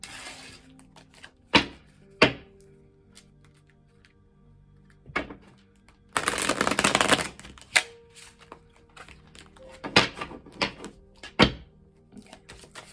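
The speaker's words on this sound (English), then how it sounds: "Shuffle these a little bit more." Tarot cards are shuffled by hand: a few sharp taps and snaps, then a dense, papery riffle burst lasting about a second midway, followed by more scattered card clicks, all close up with no talking.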